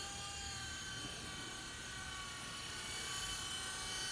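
A New Art Tech Firefox 4-channel RC helicopter flies in circles, its small electric motor and rotor giving a steady high whine with tonal hum, faint and slightly distant, no voices.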